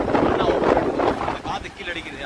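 Steady, rushing wind roars through a moving SETC long-distance bus on a Bengaluru-to-Chennai trip, loud and continuous, with a voice talking over it.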